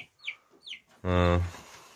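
Hens clucking beside a white rooster: a couple of short chirpy calls, then one loud harsh drawn-out squawk close by.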